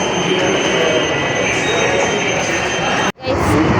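Loud, steady rumble of a train passing through Ameerpet metro station in Hyderabad, with a high metallic whine over it and a brief cut near the end.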